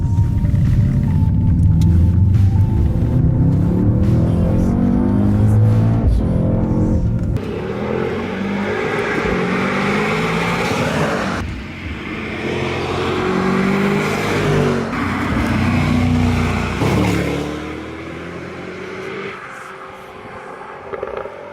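A Mercedes-AMG GT 63 S is driven fast through corners at Spa-Francorchamps, its engine roaring and dropping as it lifts and gets back on the throttle, with pitch sweeps between bends, loud and close throughout.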